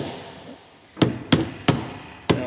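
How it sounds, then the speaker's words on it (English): Four sharp, evenly spaced hammer strikes on metal connections of a 53-year-old ex-military Caterpillar D7F dozer, loud and close, ringing briefly after each blow with no talk. "I don't like the way you hammer those connections on."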